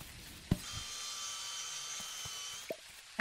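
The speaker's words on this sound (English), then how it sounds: "if you're sawing the tin, you think you'd at least get two" Tin being sawn in the video game Dinkum: a steady rasping, grinding tone with sharp metallic overtones runs for about two seconds, opened and closed by short clicks and knocks.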